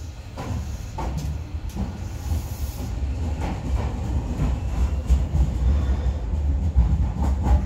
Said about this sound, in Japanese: 4番乗り場から筑前前場行き電車が発車します。